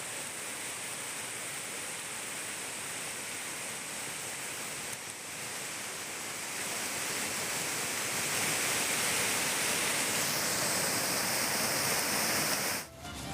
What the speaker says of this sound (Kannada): ನೋಡಿ, ಇಲ್ಲಿ ನೀರು ನೋಡಿ ಎಷ್ಟು ಫೋರ್ಸ್ ಆಗಿ ಹರಿತಾ ಇದೆ